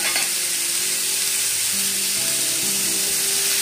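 Vegetables with tomato sizzle steadily in a hot pan, with a constant hissing fry and faint scraping as they are stirred.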